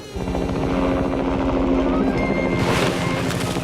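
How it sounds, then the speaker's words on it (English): A helicopter herding mule deer roars nearby with a loud, steady rotor thump and engine whine that brightens toward the end, with voices mixed in. "Helicopter, we're ready for more."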